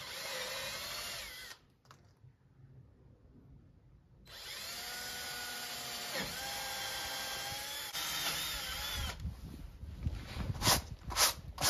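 A power drill whirs in sustained bursts while fitting a trim tab kit to a Shetland 498 boat, cutting out briefly then spinning up again, loud and close, with some handling clatter near the end.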